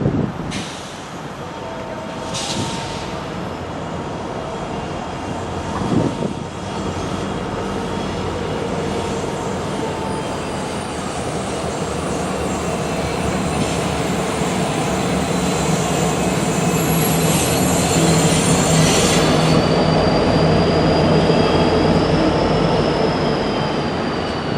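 BNSF freight locomotives and their train roll past on the Midway subdivision, a long sustained rumble of wheels and cars with intermittent squealing and air brake hiss, steady and fairly close throughout.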